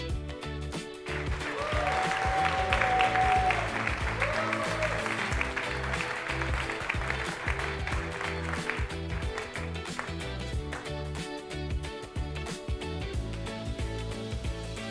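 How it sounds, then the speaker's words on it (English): A crowd at an esports competition applauds as the event's founder is introduced, sustained clapping in a large hall with a brief whoop early on. "we're going to give him a big round of applause because it is the founder of this entire competition."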